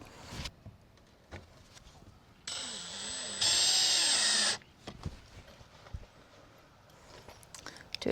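A power drill drives a screw through wildfire defense mesh on a top-mount soffit vent in one sustained whine of about two seconds. Its pitch rises as the drill speeds up. Quiet handling sounds and shuffling come before and after.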